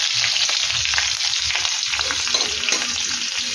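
Panch phoron spices with green chilli and dried chilli paste sizzling in hot oil, a dense, steady frying hiss close up, with faint stirring underneath and no voices.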